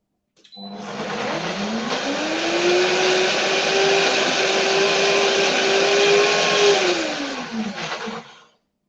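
An Optimum G2.6 blender pulsing pumpkin and carrot pulp: the motor surges up to a loud, steady whirring roar, holds for several seconds, then winds down and stops.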